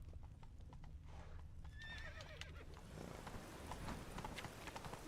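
Roach, the horse in the video game Witcher 3, gallops with quick rhythmic hoof clip-clops and lets out a clear whinnying neigh partway through, over a low ambient game backdrop.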